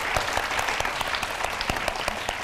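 A studio audience applauds steadily, dense overlapping hand claps at close range with no break.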